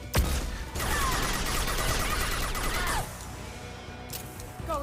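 Sustained bursts of futuristic weapon fire from a newly acquired gun in a sci-fi action game, moderately loud with a steady rattling texture, dropping away to quieter background sound for the final seconds.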